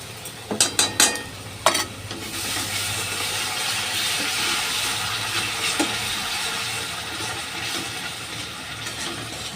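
Masala spices fry and sizzle in a pan with a steady hiss, a few sharp clinks and scrapes of stirring near the start, while making a raw banana kofta curry.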